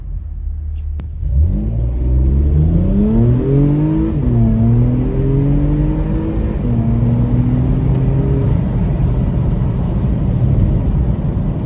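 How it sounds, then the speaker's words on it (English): A Porsche Macan fitted with a high flow air filter pulls away from a stop, its engine rising through several revving gear pulls as heard from inside the cabin, loud and steady with no talk. "We can go to a light right now, and we'll try to take off from here."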